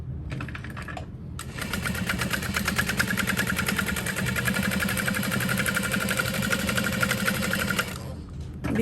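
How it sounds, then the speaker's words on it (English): A sewing machine stitching thin vinyl for a backpack runs in a steady, rapid close whir for several seconds, with brief start and stop bursts at each end. "I'm gonna sew that into place."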